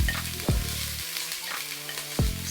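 Fresh market vegetables, onions among them, sizzle steadily in a hot pan, a loud continuous crackle punctuated by a few brief low thumps.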